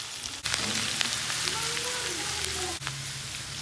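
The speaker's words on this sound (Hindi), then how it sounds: "ऑयल की अच्छी तरह गर्म होने के बाद हम इसमें सब्ज़ मिर्च शामिल कर देंगे" Green chillies hit hot oil in a pan and fry with a steady, crackling sizzle that stays close and even, with brief spattering pops and no talking.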